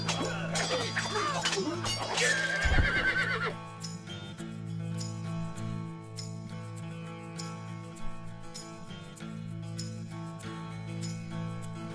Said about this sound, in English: Our horses are ready.